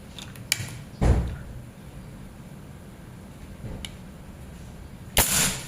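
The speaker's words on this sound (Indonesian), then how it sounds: "Sekarang tembakan keempat, batu bata yang sebelah kanan." Predator Ataman Crane PCP air rifle shots at a brick: a sharp crack near one second, a fainter snap later, and a loud final shot with a brief crumbling tail, amid quiet background ticks.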